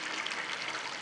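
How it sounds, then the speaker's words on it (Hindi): Boiled water is poured into a pot of rice, a continuous hissing, splashing stream that holds steady for the whole moment. "अब पानी डाल दें।"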